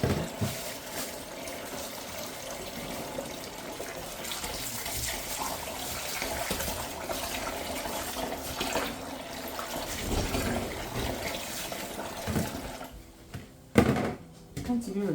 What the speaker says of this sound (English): Time to wash the okwa.